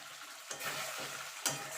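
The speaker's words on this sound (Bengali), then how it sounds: "দিয়ে ভালো করে মশলার সঙ্গে ডিমটাকে কষিয়ে নেব।" Egg frying in oil with spice paste while being stirred, a steady close sizzle with two sharper scraping clicks around midway and near the end.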